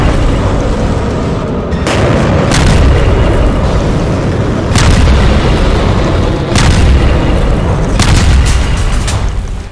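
Heavy, continuous rumbling blasts from a missile attack on an underground facility inside a mountain, loud and dense, with several sharper booms punctuating the roar at regular intervals.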